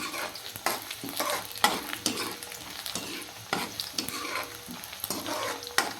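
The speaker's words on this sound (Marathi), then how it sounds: "याच्यामध्ये कांद्याचा कलर चेंज होईपर्यंत आपल्याला याला छान असं तेलामध्ये तळून घ्यायचं आहे" Chopped onions fry and sizzle in hot oil for a dhaba-style fish curry, a steady close crackle broken by repeated stirring scrapes of a spoon against the pan, with no voices.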